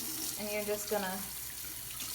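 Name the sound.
water running from a tap while rinsing makeup brushes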